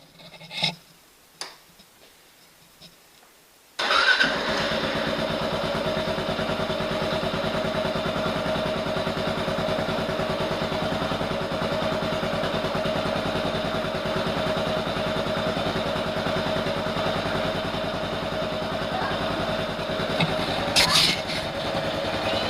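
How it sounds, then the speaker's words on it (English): A Kawasaki KLR 650 motorcycle engine starts after a few quiet clicks and handling sounds, then settles into a steady, close idle that runs continuously to the end. "start the bike up, let it run for about a minute or so, and let the oil cycle through the oil filter"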